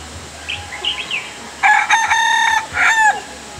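Several roosters crow in a Khmu village in northern Thailand, long harmonic calls rising over softer clucks and chirps, one crow loud and close followed by another.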